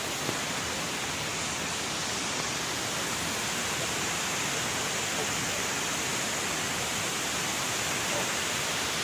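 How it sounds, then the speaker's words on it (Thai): Tad Kuang Si waterfall near Luang Prabang, Laos, with its emerald-green pools, roars as a steady, dense rush of falling water that stays constant and close throughout. "ก็มาถึงแล้วนี่คือน้ำตกที่เป็นสีเขียวมรกต"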